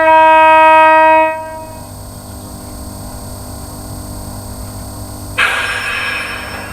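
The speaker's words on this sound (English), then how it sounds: "sound the horn" A loud, sustained horn blast from a model Class 92 electric locomotive sounds for about a second, then stops; after a quiet hum, a rushing noise of the model engine starts up.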